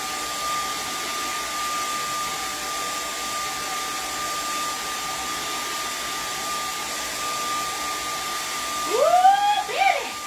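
A hair dryer blows steadily and close on a painted canvas with a July 4th firework scene, a continuous even airflow roar, and a voice breaks in briefly near the end.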